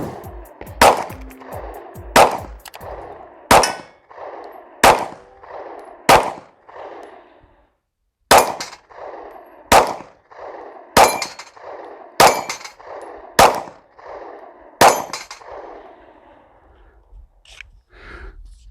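Glock 43 pistol shots crack out at an outdoor shooting range, about a dozen sharp reports in two strings with roughly one-second spacing and a short pause between, loud and close with reverberant tails.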